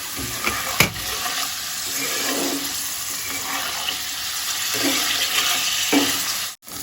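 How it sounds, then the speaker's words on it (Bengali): Paneer shallow frying in a kadai gives a steady, loud oil sizzle with occasional stirring bursts. No one speaks. "বেশি ডিপ ফ্রাই করলে শক্ত হয়ে যায়, তাই হালকা করে ফ্রাই করবেন।"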